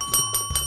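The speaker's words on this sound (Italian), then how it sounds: "ha suonato il campanello" A toy doorbell on a mechanic play set rings three times in quick succession, short bright chimes with a steady hum beneath.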